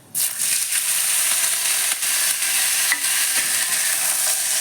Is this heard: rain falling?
no